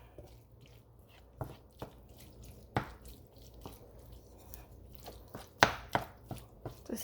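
Scrambled egg mixture being stirred in a bowl, with soft irregular taps and scraping clicks of a utensil against the bowl, fairly quiet and close, a few sharper knocks spread across the moment.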